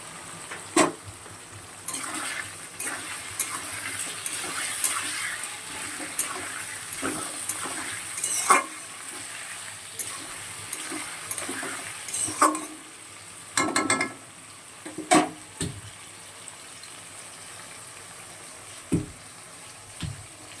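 Prawns and potatoes fry in a pan with a faint, steady sizzle, broken by scattered scraping and clattering as the pieces are stirred and turned; no voices are present.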